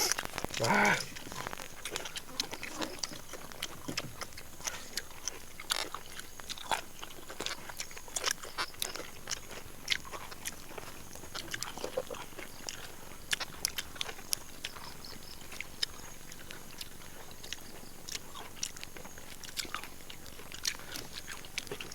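Someone eating spicy Thai soi ju, a raw beef dish, chews close to the microphone with frequent wet bites and smacks.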